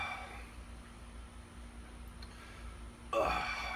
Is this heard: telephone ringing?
no